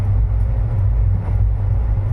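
Moving Teesta Torsa Express train heard from on board, a continuous close low rumble and rhythmic rattle of the carriage with no talking.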